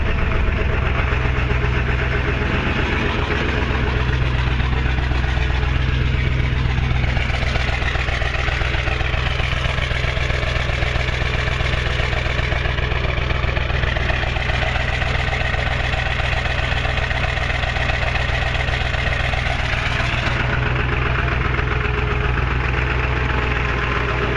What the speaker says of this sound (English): She's gonna run rough and rattle for a couple minutes here